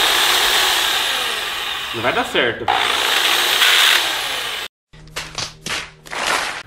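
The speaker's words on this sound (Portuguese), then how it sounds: "Eu acho que vou ter que fazer um furinho com a furadeira e depois pegar e colocar o parafuso." A power drill whirs steadily for several seconds with a person speaking briefly over it, then cuts out, followed by a few short scraping and handling noises.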